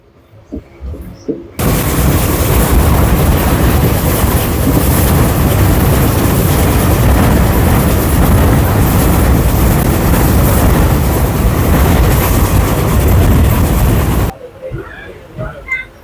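Loud, steady rumble and rattle of a train running near Udumalpet toward Palani station, roaring continuously for most of the clip before dropping away to quieter background.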